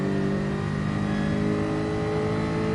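Porsche race car engines in GT Sport drone and rev steadily throughout, a dense continuous mechanical roar with no pauses.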